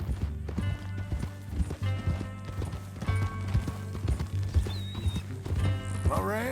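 Horse hooves clip-clop at a steady walking rhythm in Red Dead Redemption 2, close and clear over a low engine-like drone and game music, with a brief whinny and faint voices.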